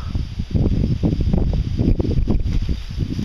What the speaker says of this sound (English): Pretty windy today, so they're making lots of noise with the wind rustling through their leaves.